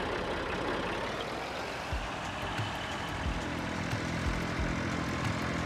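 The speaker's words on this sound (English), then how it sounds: "Pretty nice little farmyard tractor right here." Steady diesel drone of a Massey Ferguson 240 tractor engine idling in a farming video game mod farmyard, continuous and fairly even with a low rumbling knock underneath, no talking.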